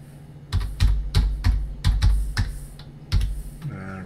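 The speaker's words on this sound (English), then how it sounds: "I'm gonna type something else to find you." Typing on a computer keyboard, about eight distinct clustered keystroke bursts tapping in an irregular rhythm, close and fairly loud, with no speech.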